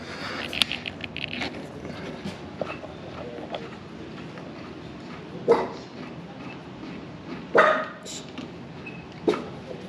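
A small dog barks and yips in sharp, separate bursts spaced several seconds apart, moderately near, over a low background of scraping and faint activity in a garage setting during motorcycle work on a 2025 Husqvarna Norden 901 Expedition.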